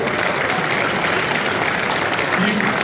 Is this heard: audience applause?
yes